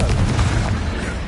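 Spell blasts booming in Hogwarts Legacy, where Confringo explosions land amid other combat magic; dense, continuous low rumbling impacts pile up without a break, loud and close.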